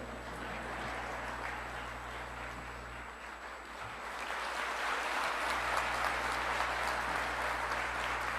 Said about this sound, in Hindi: बजा लीजिए तालियां जरा।